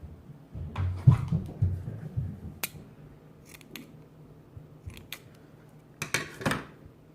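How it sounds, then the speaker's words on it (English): Scissors snipping string for a homemade paper file folder, a handful of crisp close cuts and clicks spread across the clip, with quiet handling noises between them. "I'm gonna cut it down a little bit."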